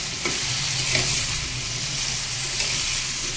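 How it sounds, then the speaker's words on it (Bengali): Pumpkin frying in hot oil tempered with cumin seeds hisses in a steady, loud, continuous sizzle, with a few faint stirring scrapes on top. "আমি তেলে একটু সামান্য জিরে ফোড়ন দিয়ে কুমড়োটাকে ভেজে নিচ্ছি"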